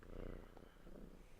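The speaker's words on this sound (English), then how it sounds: "there's some cat purring going on" A cat purring softly and steadily in a low, continuous rumble, faint and close, with no talking over it.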